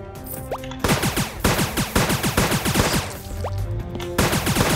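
Repeated gunfire from weapons in Starbound during a boss fight, loud rapid bursts of shots in quick clusters separated by short pauses, with no talking.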